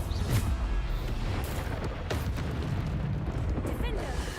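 Explosive Bombarda spell blasts in the video game Hogwarts Legacy, a couple of sharp booming bursts over a steady rumble of combat noise, fairly quiet overall.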